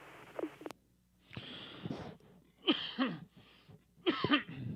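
Several harsh coughs come in short bursts, separated by brief pauses, close to the listener with no talking.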